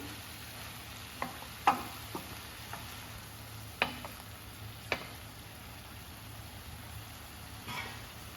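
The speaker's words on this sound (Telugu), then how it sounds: "టమాటాలని, పచ్చిమిర్చిని, కొత్తిమీరని బాగా ఫ్రై అవ్వాలి." Tomatoes, green chillies and coriander frying in a pan, giving a soft, steady sizzle with a handful of sharp spatula taps and scrapes at uneven intervals.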